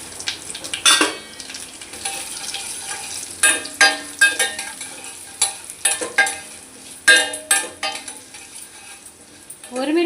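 Mustard seeds, green chilies, lentils and cumin sizzle in hot oil as a tempering, with repeated scraping stirs and pan knocks coming in bursts over a constant frying hiss.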